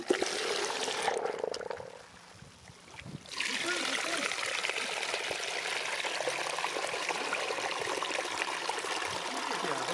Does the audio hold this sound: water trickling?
yes